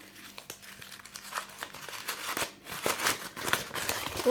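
Sheet of office paper crumpled by hand, a close, continuous crackling and crinkling with sharper rustling bursts that grow louder toward the end.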